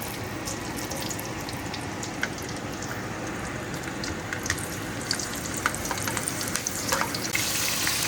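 Green chili hits hot oil in a pot while cooking beef rib biryani, producing a steady, close, dense sizzle and crackle with scattered sharper pops that grow busier toward the end.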